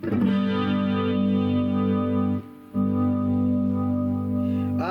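Distorted electric guitar chord, played with both pickups selected, rings out loud and sustained, cuts briefly, then is struck again and rings on, with no voices.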